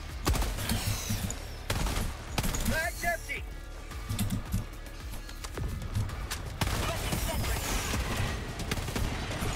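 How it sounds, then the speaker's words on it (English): Rapid bursts of machine gun fire and crackling weapon shots in the video game Helldivers, dense and continuous, with a few sharper explosive hits and players talking over the fighting. "So do machine guns."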